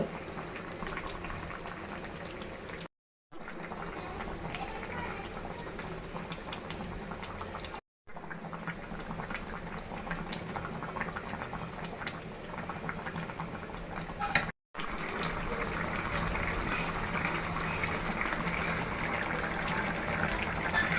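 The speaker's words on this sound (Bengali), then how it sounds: "চুলার তাপটা মিডিয়াম আঁচে রেখে এভাবে আস্তে আস্তে তরকারিটা জাল দিয়ে নিব" Boal fish curry with eggplant and potato simmering on medium heat: a continuous close bubbling boil with soft popping, broken by a few brief silent gaps.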